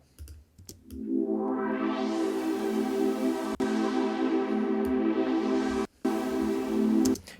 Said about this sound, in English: And we'll just add some reverb.